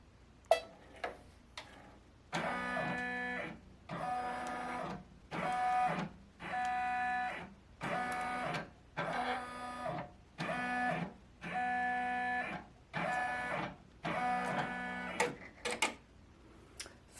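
An embroidery machine with an 8 by 13 Mighty Hoop traces the design outline, giving off a run of regular motorized buzzing pulses of about a second each, evenly spaced and close, with a few clicks at the start.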